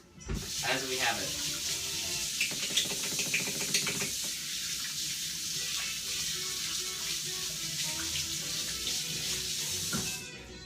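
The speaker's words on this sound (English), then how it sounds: "Gonna wash my hands." Water runs steadily from a tap while hands are washed at a kitchen sink, a continuous hiss with splashing and some clattering, and a voice talks briefly early on.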